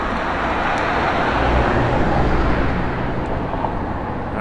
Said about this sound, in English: As car goes past.